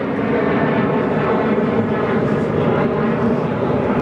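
A jet airliner arriving from Phuket roars in at Sydney Airport, a loud, continuous engine rumble and whine holding steady throughout.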